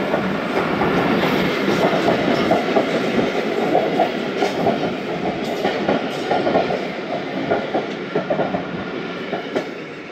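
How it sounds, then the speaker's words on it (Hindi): The 46 Down Pakistan Express pulls out of Khanewal, its wagons rumbling with a steady clickety-clack of wheels over rails, loud and continuous throughout with no talk. "खानेवाल से डिपार्ट कर रही है 46 डाउन पाकिस्तान एक्सप्रेस।"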